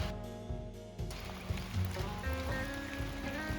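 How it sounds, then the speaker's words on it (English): Soft patter of rain falling outdoors, steady and gentle, with faint background noise and no talking. "It's raining, thank the Lord."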